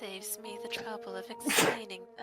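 A person sneezes once, a loud, sharp burst right in the middle of ongoing conversational speech.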